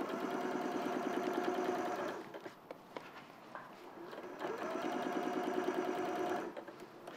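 Domestic sewing machine stitching quilt seams, two steady runs of rapid mechanical whirring with a short quiet pause between them, close and clear with no talking.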